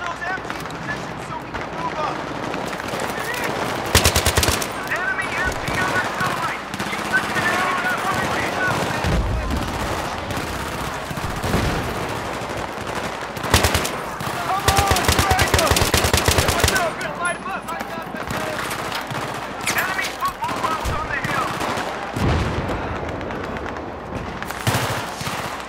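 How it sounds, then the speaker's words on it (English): Battlefield 3 gameplay with a heavy-recoil gun firing repeated loud bursts of automatic fire, dense and close, continuing throughout with short pauses between volleys. "Wow, the recoil in this gun."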